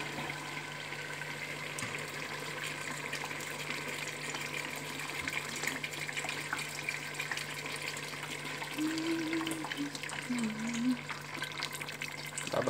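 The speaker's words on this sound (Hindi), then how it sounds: "अभी इसके अंदर हम शोरबे का पानी डाल देते हैं।" Broth water pours steadily into a pan of aloo matar curry, a continuous splashing gush under a faint tonal hum from the kitchen.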